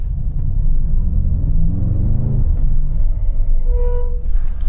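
A Mercedes-AMG GT63 braking on a race track: heavy low road rumble as the car slows, then a thin, high-pitched brake squeal that rises near the end, with no talking.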